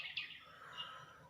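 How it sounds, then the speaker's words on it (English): Birds singing in the background outdoors, a faint, distant chirp and a soft trailing call over quiet ambient hum, brief and alone. "I can hear the birds in the background."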